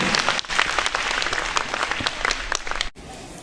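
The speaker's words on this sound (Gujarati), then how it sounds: "જોરદાર તાળીઓના ગડગડાટ સાથે વધાવી લ્યો બેનને" Loud, sustained applause from a school audience at a joint high school and primary school program, dense clapping that runs nearly three seconds before stopping abruptly, followed by a quieter tail.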